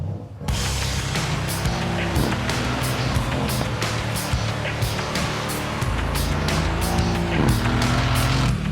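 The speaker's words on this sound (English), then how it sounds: "You hear it really squeal on those tyres" A Mercedes-AMG C 63 S engine roars steadily up close while tyres scrub and squeal under hard cornering, with the drone continuing throughout.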